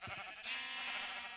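Sheep bleating on an automatic wool farm in Minecraft, a couple of short wavering bleats close by, faint and alone.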